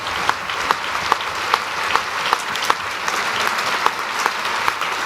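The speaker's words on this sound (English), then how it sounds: "Please give them and all of their colleagues a very well-deserved round of applause" Steady, sustained applause from a large audience at a formal ceremony honoring recipients of British Empire orders, dense clapping with no voices over it.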